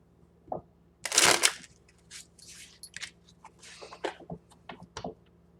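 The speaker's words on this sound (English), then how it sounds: "let's do one more good shuffle" Quick bursts of papery rustling and slapping as tarot cards are shuffled, one loud riffle followed by softer, scattered flicks and taps.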